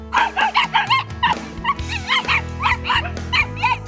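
Several shelter dogs bark in quick, repeated bursts close by, with whimpering and yips mixed in between, over a low background hum and no talking.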